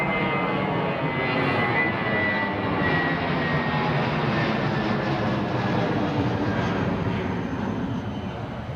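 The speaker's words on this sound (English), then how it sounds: "like the takeoff sounds from this position" A jet aircraft taking off from Heathrow runway 09R, heard up close as a loud, steady broadband engine roar that holds at full strength throughout without pause.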